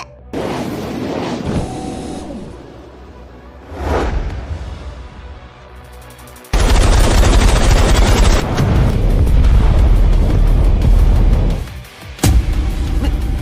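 Rapid-fire close-in weapon system on an anime warship, a loud dense burst of continuous gunfire that roars in at mid-clip and sustains with a brief dip near the end, preceded by softer whooshes and booms.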